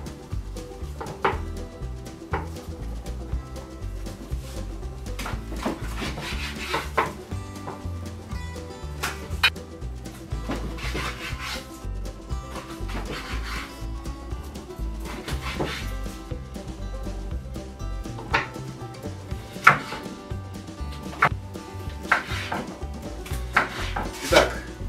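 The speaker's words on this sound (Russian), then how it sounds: "просто разрежу сначала на полоски, а потом еще разрежу на более мелкие полоски" A knife chops through pork rind on a board, cutting it into strips with irregular, fairly close thuds and clicks and brief pauses between bursts of cuts.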